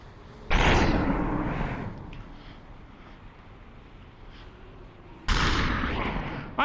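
Two loud, booming gunshots from the video game Superhot, each a sharp blast with a long decaying tail, spaced several seconds apart with nothing else in between.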